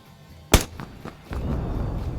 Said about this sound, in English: That sounded like a vehicle explosion.